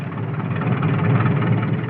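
Tractor engine on a 1950 cattle ranch, a steady low rumbling drone that holds evenly for a short stretch with no voices over it.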